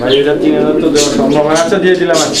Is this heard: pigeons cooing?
yes